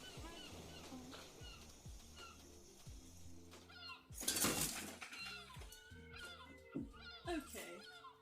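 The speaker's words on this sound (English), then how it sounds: "my cat just fell off the pillow" A cat tumbles off a pillow with a brief soft rustling burst midway, amid meows, light background music and a person talking nearby.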